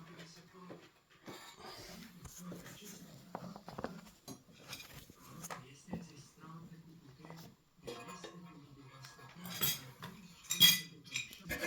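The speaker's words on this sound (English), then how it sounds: "Remove those two screws." Small metal screws being backed out of a FÉG gas convector heater, with light metallic clinks and scraping ticks close by, scattered among handling noises across the clip.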